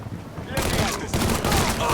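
Enemy gunfire in the video game Mafia III breaks out after a brief quiet lead-in, then continues as a dense, loud, sustained barrage of overlapping shots.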